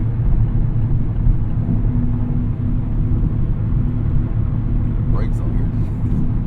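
Steady low rumble of road and engine noise inside a moving 2024 Mazda Miata, constant and fairly loud, with a brief faint squeak near the end.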